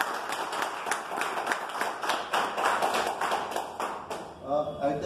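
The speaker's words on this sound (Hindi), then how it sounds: "इनके लिए जोरदार ताली" An audience bursts into loud, sustained applause, dense clapping running steadily throughout and swelling near the end, with some voices mixed into the crowd.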